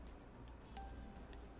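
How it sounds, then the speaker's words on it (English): A single soft bell chime rings once in a bell puzzle in the video game Escape Academy, faint and brief over a quiet background hum. "we're going to select the bell puzzle, and we're going to ring the bells in this order"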